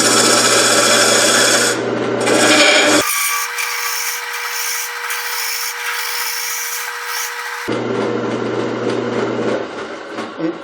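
Wood lathe turning a goblet, the tool cutting aggressively and throwing shavings: a broad, steady rasping scrape that drops out for a few seconds into a lower hum before the cutting resumes, close and loud with no talk.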